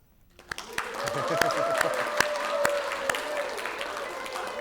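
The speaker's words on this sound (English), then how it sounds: "a round of applause for you-know-who" Sustained audience applause fills the room at a Buddhist meditation retreat talk, many hands clapping steadily and close, swelling after a quiet start with occasional sharper claps standing out.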